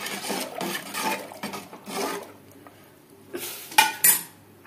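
Ginger and green chilli are ground into a paste, with steady rough rasping and rubbing strokes close by. A few sharper knocks follow near the end, and no one speaks.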